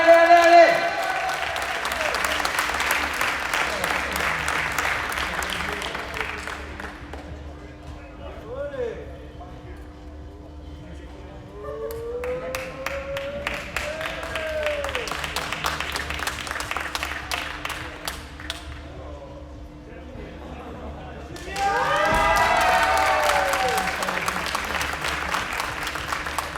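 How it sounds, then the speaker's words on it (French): Audience applause at a tennis tournament prize ceremony in Eaubonne, steady clapping that swells in waves, mixed with cheering voices and an announcer talking over it, with a louder burst near the end. "Bravo Avor, on l'applaudit un peu plus fort"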